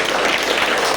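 Applause from podcast hosts and guests in a studio setting: a dense, steady patter of many hands lasting about a second at moderate loudness.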